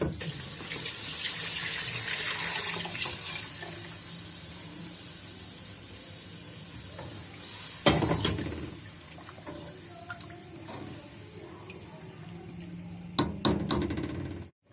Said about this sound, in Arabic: خلاص بقى كده هننزل عليهم بقى بالحليب